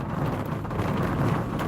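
Heavy, steady rain pours during a severe rainstorm, a dense continuous hiss with low rumbling underneath, loud and close throughout the brief stretch with no voices.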